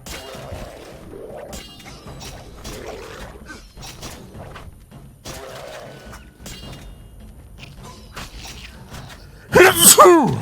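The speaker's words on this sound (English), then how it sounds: "Oh my god, what a time for a sneeze." A character sneezes in The Witcher video game, near a marsh campfire: one loud, sharp burst right at the end, after a stretch of quieter in-game ambience and scattered effects.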